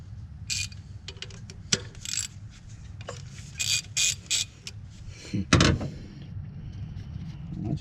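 A half-inch drive ratchet turns a socket during a mobile mechanic's repair of a Ford. The clicks come in short irregular bursts, with a few sharp metallic clinks. No one talks.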